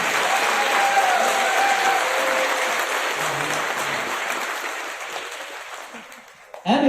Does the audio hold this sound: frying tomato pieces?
no